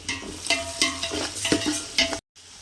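Onions with rock salt frying in a pan for chicken dum biryani, sizzling under repeated scraping stirs of a spoon in a steady rhythm, close up, ending in a brief cutoff.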